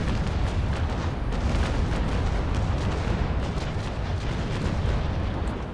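Warship cannon broadside fired during a naval battle in the game Naval Action, a dense, sustained roar of overlapping booms and rumbling blasts filling the whole stretch at steady loudness, with no talk.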